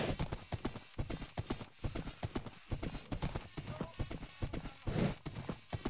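Steady clip-clop of horse hooves trotting at an even rhythm in a video game, close and clear, with faint talk underneath.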